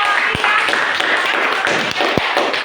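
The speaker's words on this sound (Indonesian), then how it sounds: "beri tepuk tangan kepada kelompok" Students in an Indonesian science class applaud a group after a simple thermometer project, with scattered near taps and claps and a couple of sharp thumps, mixed with talking.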